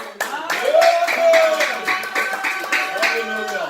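A church congregation claps together during a Sunday service, a steady run of loud hand claps over a worship setting where voices and singing carry along beneath.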